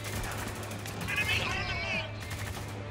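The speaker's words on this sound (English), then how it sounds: "Where am I getting shot at?" Video game gunfire in Spec Ops: The Line, a rapid burst of shots close by with a ringing echo, mixed over talk and a steady low hum.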